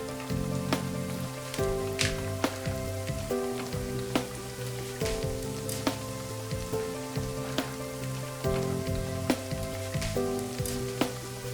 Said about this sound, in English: So I'm just going to fry this.